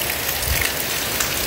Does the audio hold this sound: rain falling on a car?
yes